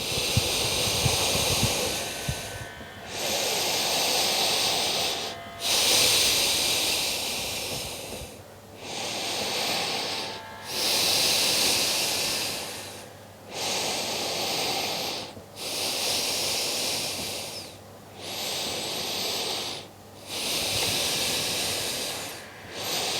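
Slow, deep breathing held during a yoga pose, loud and close, with long airy inhales and exhales repeating about every two and a half seconds with short quiet gaps between them and no talking.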